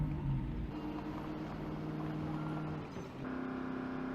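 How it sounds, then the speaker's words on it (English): A loud, slow car engine in a zombie survival video game gives a steady, heavy drone close up. Its pitch and tone shift slightly near the end. "this car is really loud and very, very slow"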